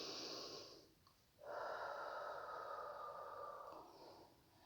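One slow, deep breath, drawn in and then let out in a long, soft exhale, close and quiet against a silent background during a calm guided pause.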